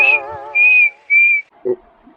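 A person whistles a short run of clear, sustained notes, with three long high tones and a brief lower one at the end, close and alone with no other sound.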